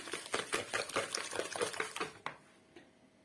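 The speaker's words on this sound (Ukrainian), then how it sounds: "чуть-чуть розмішаю це все" Quick, rhythmic scraping and clinking of a spoon stirring a bowl of sugar mixture with vanilla, about two seconds of brisk strokes, then quiet.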